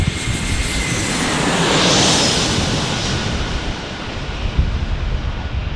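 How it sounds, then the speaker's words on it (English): A Delta Airlines Airbus A321 inbound at San Diego airport, a broad steady engine roar that swells slightly toward the middle and stays loud throughout, with no talk. "An A321 for Delta Airlines."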